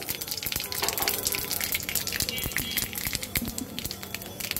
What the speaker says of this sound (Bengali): মাছ ভাজা তেলের মধ্যে দিয়ে দেব জিরা ফোড়ন